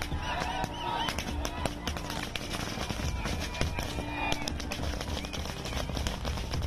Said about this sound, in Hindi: इसका जश्न मनाने के लिए लोगों ने पटाखे भी छोड़े